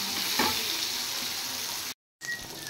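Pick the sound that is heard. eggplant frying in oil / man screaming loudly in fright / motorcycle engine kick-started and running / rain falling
eggplant frying in oil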